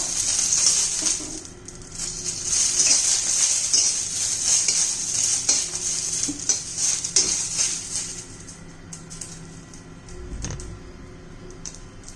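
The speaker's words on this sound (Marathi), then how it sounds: "मिरची पण भाजून घ्यायची म्हणजे खर ठेच्याला चांगलं हे चव येते" Green chillies roasting in a little oil for a spicy cluster-bean thecha, giving a steady hissing sizzle with scattered scraping and clinking from stirring in the pan, close and continuous.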